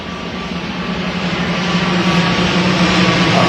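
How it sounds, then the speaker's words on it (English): An airplane passes overhead at an outdoor election rally, a loud, broad engine roar that holds steady and swells slightly, with no speech over it. "I didn't call the plane to come here."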